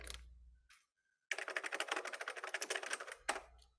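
Typing on a computer keyboard, a quick run of crisp close key clicks in a steady patter after a few isolated taps and a short silence.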